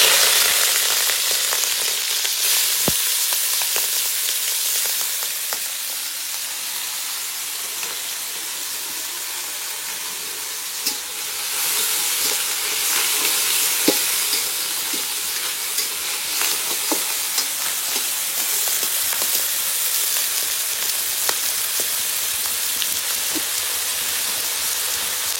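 King snail meat fries in hot mustard oil in a kadai, a dense, continuous sizzle with scattered sharp crackles and pops that holds steady and close throughout, no voices over it.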